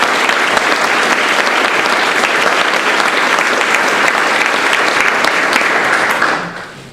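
A graduation audience at the Croft Institute for International Studies gives a warm, sustained round of applause for donors, loud and dense for several seconds before fading out at the end.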